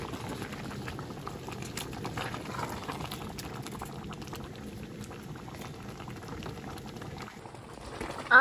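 A pot of cassava leaves for palm nut soup boils with a faint, steady bubbling and simmering, ending with a short knock.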